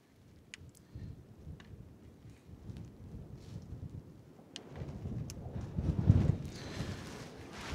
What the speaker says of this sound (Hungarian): korom sötét van, és jó nagy viharos szél abból az irányból